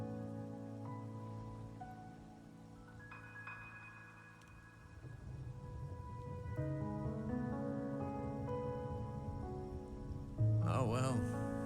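Steady rain falls in the Wuthering Waves video game, a soft continuous patter on surfaces beneath tonal game music, with a louder swell near the end; no talk is heard.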